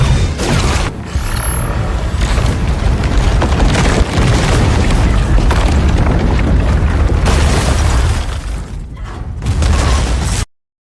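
A sci-fi film ion explosive goes off as a long, loud, rumbling blast with creaking, crumbling debris beneath it, building and rolling for about ten seconds before it cuts off abruptly.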